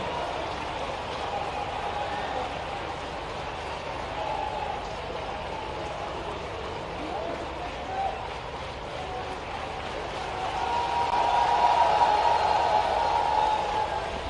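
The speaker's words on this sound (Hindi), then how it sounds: "और इस स्वागत पे आपकी तालियां" A crowd at a state government employees' conference in Bhopal applauds a welcome for the chief minister with steady, broad clapping from a large hall audience, swelling louder toward the end.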